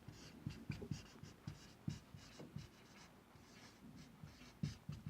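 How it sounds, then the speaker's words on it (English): Chalk or pen taps and scratches close by while a revision question is written out, in short irregular strokes and light knocks with a faint background, no talk. "Let me write here."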